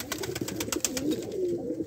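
Soft, low pigeon cooing rolls on continuously, close by, with wing flutters and rustling in the background.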